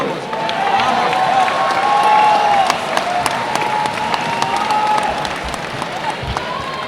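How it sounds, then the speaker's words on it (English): Crowd applause and cheering for two fighters after a cage fight at a Cage Titans MMA event, a broad steady roar of clapping that swells then holds at high level, with whistles and shouts mixed in. "so let's get a good round of applause for these two."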